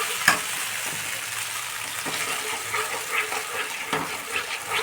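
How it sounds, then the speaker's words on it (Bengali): A paste of ginger, green chili and cashew fries gently on low heat for an aloo dum, giving a steady soft sizzle with a few faint stirring scrapes and no voices. "দেখো, একদম আঁচ কমিয়ে আমি ভেজে নিচ্ছি।"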